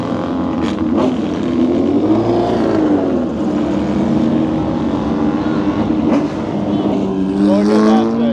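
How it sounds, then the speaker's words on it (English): A Ford GT40 Roadster race car drives past at Road America, its engine roaring loud and steady over crowd noise with a rising and falling pitch, while people talk nearby. "And there's the GT40 Roadster."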